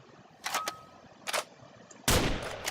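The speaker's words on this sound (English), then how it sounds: "Next we move on to one of my favourite guns in real life, the M14." An M14 semi-automatic rifle fires in Minecraft with the Flans Mod, three separate sharp shots spaced apart, the last one loudest and ringing out longest.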